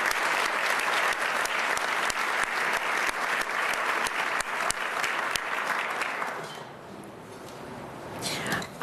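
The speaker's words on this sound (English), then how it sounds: "Let's give them a round of applause." A large conference audience claps loudly and steadily for several seconds, then the applause thins and fades out.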